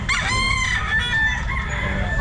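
Roosters crow and chickens cluck together at a pet market, several birds overlapping in a busy, close chorus over low background noise.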